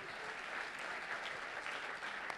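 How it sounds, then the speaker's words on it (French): An audience at a national conference gives steady, moderately distant applause, a dense wash of clapping that stays even from start to finish with no voices. "Je vous demande d'applaudir et de remercier Louis Droissard, Camille Devrotte, Dominique"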